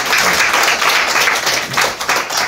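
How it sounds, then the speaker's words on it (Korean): Dense, continuous applause from a crowd at a hair salon company's monthly staff meeting, loud and close, a steady wash of many hands clapping without pause throughout. "저희 열심히 준비해주신 우리 백번한테 큰 박수 부탁드립니다"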